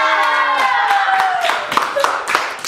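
An audience claps and cheers on cue at the start of a Korean student talk show, voices whooping over scattered sharp hand claps that loosen into separate claps toward the end.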